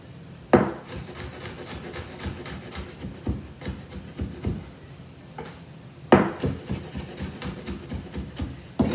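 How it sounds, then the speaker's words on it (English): A knife finely chops squished garlic on a wooden cutting board, rapid rhythmic knocks in quick bursts with a few louder thuds between runs. "That garlic that I squished earlier. Again, I'm gonna cut it really finely."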